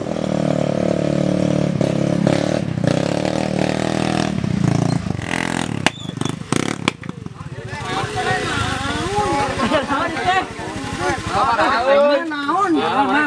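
A motorcycle engine idles and revs nearby under overlapping voices, with clattering and a rising, wavering engine tone in the second half.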